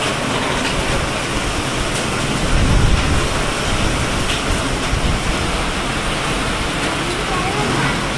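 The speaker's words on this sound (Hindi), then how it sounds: "देख तो ले कितनी तेज बारिश आ रही है।" Heavy rain pours down in a dense, steady roar that holds at an even loudness from start to finish.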